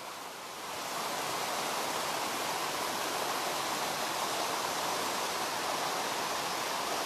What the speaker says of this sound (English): Just a beautiful little side river here.